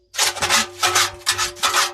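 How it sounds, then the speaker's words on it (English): Leftover lime mortar scraped out of a container with a tool, four loud rasping strokes in quick succession, close up and with no talk. "So I'm in there trying to scrape every little bit out."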